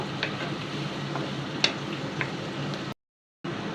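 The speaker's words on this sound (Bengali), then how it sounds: "মিষ্টি কুমড়াটাও মশলার সাথে কষিয়ে নিব" Sweet pumpkin stir-fried with spices in a home kitchen pan gives a steady sizzle, with a few faint scraping ticks from stirring and a brief drop to silence near the end.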